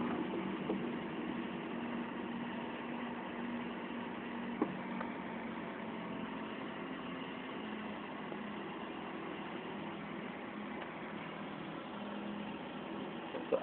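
A manual transmission training car's engine runs and builds revs during a driving lesson, a steady muffled mid-low drone heard from inside the cabin, with a couple of faint clicks.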